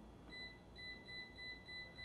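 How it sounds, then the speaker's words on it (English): A Fieldpiece SC56 clamp meter's voltage detector emits repeated high-pitched beeps in a quick, regular rhythm, faster on the hot wire, faint against a low background hum. "that side is the hot because it's beeping faster"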